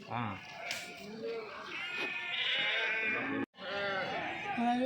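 Nellore Judipi sheep bleat at the Kadiri weekly livestock market, several harmonic cries rising over constant crowd chatter and bargaining voices, with a brief drop-out near the end.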